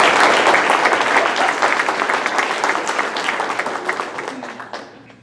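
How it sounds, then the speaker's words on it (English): Audience applause fills a Rotary club meeting room, loud, dense clapping from the start that slowly thins and fades out toward the end. "Let's give them one more round of applause."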